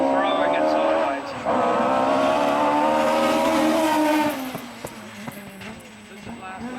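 A Mitsubishi Evo rally car on a classic rally stage, engine roaring loud and close as it is thrown sideways, with a rising then falling engine note and a spectator talking over it.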